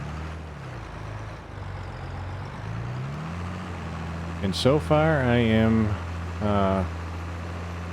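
Tractor engine in Farming Simulator 22 drones low and steady while pulling a lowered plow across a field, someone talking over the continuous hum.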